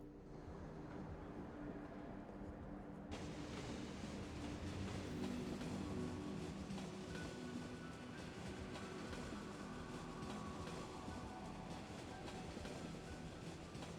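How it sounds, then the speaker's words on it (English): A tram in the game Cities: Skylines rolls along continuously, a steady rail rumble with rhythmic clatter and a brighter hiss joining after a few seconds. "This is our first tram."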